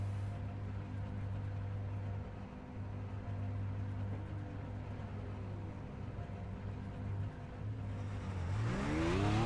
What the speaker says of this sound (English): The VAPEX Racing Group GT Red car is on pit road as well.